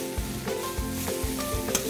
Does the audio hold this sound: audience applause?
no